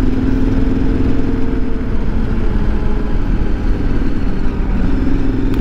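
KTM 1090 R motorcycle riding along a paved road toward Honeydew in Northern California, a steady, loud engine drone with constant road and wind rumble throughout, no talking.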